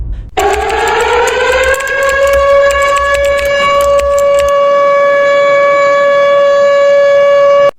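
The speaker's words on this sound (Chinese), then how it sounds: "这是空袭预先警报。" An air raid pre-warning civil defense siren sounds loud and steady, rising to a sustained wailing tone after a low rumble and rattling in the first seconds, then holding alone.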